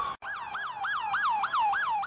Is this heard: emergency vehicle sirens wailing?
yes